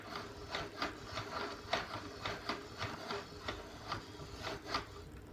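A yarn ball winder turns while winding yarn, giving a steady run of soft rhythmic mechanical clicks and whirring at moderate distance.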